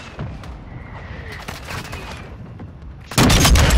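Shotgun and other gunfire in a Call of Duty: Modern Warfare II match, scattered distant shots with a sudden loud close blast near the end.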